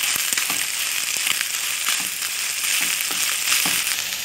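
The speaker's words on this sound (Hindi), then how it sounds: "अब मैं इसमें अनियन ऐड कर दूँगी और इनको हल्का सा फ्राई कर लूँगी।" Onions and chicken frying in a pan for restaurant-style chicken shashlik, a continuous close sizzle with crackles and soft stirring scrapes throughout.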